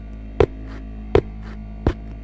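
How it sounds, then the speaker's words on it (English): An electrical humming in the Fear Lift horror game, a steady low mains-like drone interrupted by three sharp periodic thumps. "Investigate the humming."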